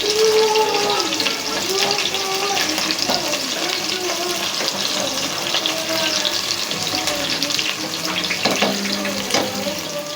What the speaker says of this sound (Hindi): प्याज को हल्का ब्राउन करना है, ज़्यादा नहीं करना है ब्राउन।